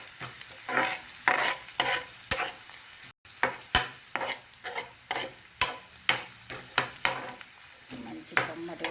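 Fenugreek leaves fry in a pan for a Rajasthani rabodi sabzi, a soft background sizzle punctuated by a long series of rhythmic scraping stirs and utensil taps, close and fairly loud.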